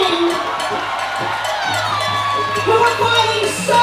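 Crowd at a street rally march in Sydney cheering and whooping, a steady roar of voices with scattered shouts carrying on throughout.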